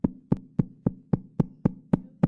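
Nine sharp knocks on a door in a steady, evenly spaced rhythm, each one loud and close with a short resonant thud. No voices.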